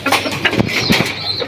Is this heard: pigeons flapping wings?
yes